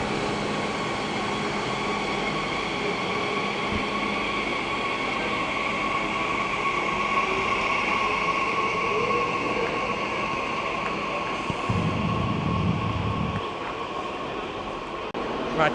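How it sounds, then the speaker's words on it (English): Regional train at Berlin Hauptbahnhof, a steady rumble and hum of the moving train inside the station with tonal whine, brief squeals and a short low-pitched burst partway through. "Meanwhile, here's a regional train."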